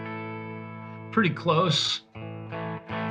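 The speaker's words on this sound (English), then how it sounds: "Got a lot of delay or reverb on this patch" An electric guitar played through a Tone Master Pro on a patch with heavy delay and reverb rings out in sustained, slightly distorted notes that trail and echo, with a voice briefly speaking over it.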